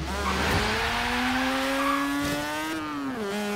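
A single turbocharged car engine in the Forza racing video game revs steadily, its pitch climbing slowly then settling, loud and close with a sustained harmonic whine throughout.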